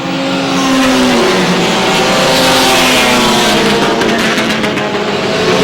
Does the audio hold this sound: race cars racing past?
yes